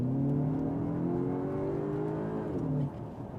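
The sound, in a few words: Cupra Terramar accelerating with augmented engine sound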